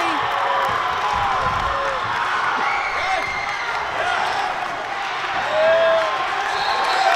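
A lively crowd at a high school boys varsity basketball game keeps up a steady roar of cheering and shouting, with squeaking sneakers on the court and a swell near the end, under a commentator's voice.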